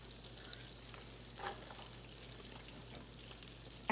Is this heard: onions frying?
yes